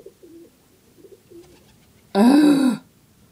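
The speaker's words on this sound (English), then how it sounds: "This is what it sounds like when doves cry." Doves cooing nearby, several low, soft coos in the first half followed by one sudden loud, harsh burst like a throat-clearing call.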